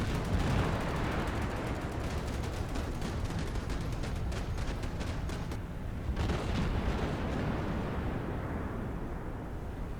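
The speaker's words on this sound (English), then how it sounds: "The anti-aircraft fire is unrelenting." Unrelenting anti-aircraft gunfire in a carrier combat video game, a continuous rapid crackle of shots and bursting flak over a heavy rumble, loud and steady with a short lull midway.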